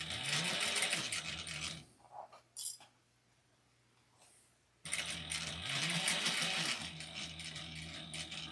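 A sewing machine stitches a small fabric wristlet in fast, steady mechanical runs up close. The first run stops after about two seconds, followed by a few clicks and quiet, then a second long stitching run.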